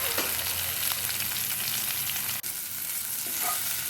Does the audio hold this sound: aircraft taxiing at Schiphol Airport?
no